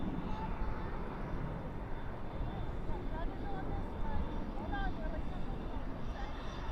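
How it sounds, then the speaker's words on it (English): An Airbus A321 in Falcon livery rolls toward departure at night at Dallas/Fort Worth International Airport, a steady broadband jet rumble that stays fairly distant throughout, with faint whistling tones drifting over it. "Airbus A321 in the Falcon livery. That is right now going towards a departure on our side."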